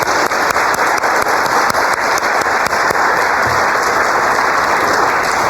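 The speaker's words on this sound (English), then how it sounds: "Can we have one more round of applause for all of our speakers this evening?" Sustained applause from a large crowd for speakers at an evening 100th-anniversary celebration, dense steady clapping filling the whole stretch without any speech.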